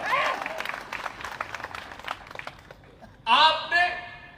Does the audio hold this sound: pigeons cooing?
no